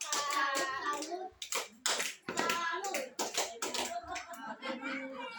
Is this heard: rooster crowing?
no